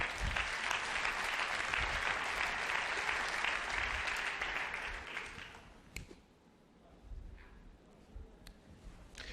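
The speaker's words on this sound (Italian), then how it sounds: "Un applauso per il poestro Salvo D'Antonio." Audience applause for a poet at a live Italian poetry event, a steady wash of clapping from a crowd that dies away after a few seconds into room murmur.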